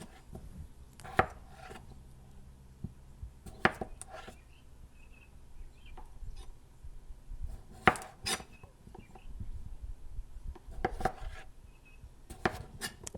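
A knife chops quartered potatoes on a cutting board in a home kitchen, giving sharp, irregular thunks spaced a second or two apart, with softer scraping and handling noises in between.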